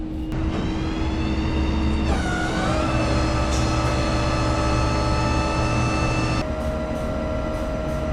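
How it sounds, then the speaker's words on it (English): A large pickup truck engine cranks and then rumbles into a steady, loud idle with a droning hum, close by. "let me go fire my truck up"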